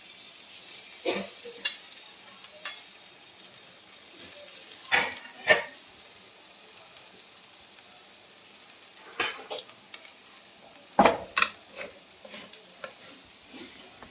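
Crispy chicken with fresh coriander leaves and a pinch of garam masala is stirred in a frying pan, with sporadic spatula scrapes and clatters over a faint background sizzle.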